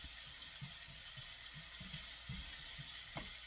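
Julienned carrots sautéing in sesame oil, a soft steady sizzle with faint scattered stirring clicks and taps from the pan, quiet and close, no speech.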